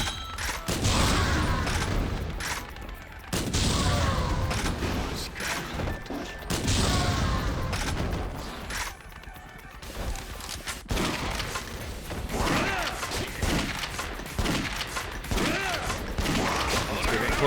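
Grenade launcher firing in Yakuza Dead Souls: repeated heavy thumps and mechanical clunks amid loud game action, coming in irregular bursts with brief lulls, and a little talk mixed in.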